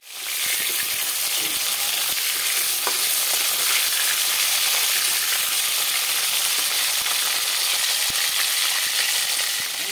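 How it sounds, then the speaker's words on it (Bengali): Fish pieces frying in hot oil in a pan, a steady dense crackling sizzle running loud and continuous throughout with occasional small pops, no voices. "সব মাছগুলো এইভাবে ভেজে নেব, এইভাবে মাছগুলো ভেজে নিচ্ছি"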